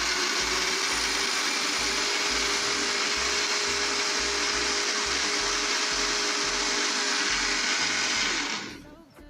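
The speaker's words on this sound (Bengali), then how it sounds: "ওকে, এখন আমি চালু করে দিচ্ছি ব্লেন্ডারটি।" An electric kitchen blender whirs loudly and steadily while blending a banana milkshake, a constant high motor whine with a throbbing low pulse, running for about nine seconds before abruptly switching off.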